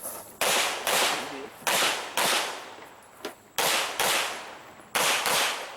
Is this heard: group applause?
no